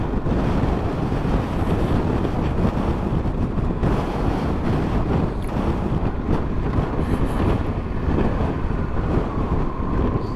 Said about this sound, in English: And it's windy again.